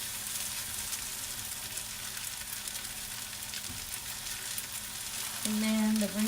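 Bok choy fries in a hot wok for fried pho noodles, giving a loud continuous sizzle and crackle close by, with a brief clatter midway and a short tonal hum near the end.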